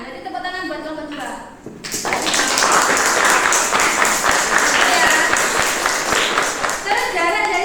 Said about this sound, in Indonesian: Jadi tepuk tangan buat nomor 2.